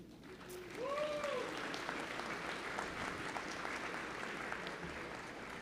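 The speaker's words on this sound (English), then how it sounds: "You should applaud that." Commencement audience applauding in a large venue, a sustained, fairly distant wash of clapping that swells quickly and holds evenly, with a brief whistle near the start.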